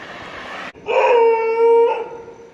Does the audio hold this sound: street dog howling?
yes